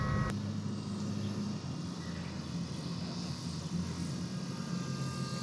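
An E-flite Draco 2.0m electric RC airplane comes in low for a touch and go, its motor and propeller giving a steady, moderately faint whir against outdoor background noise.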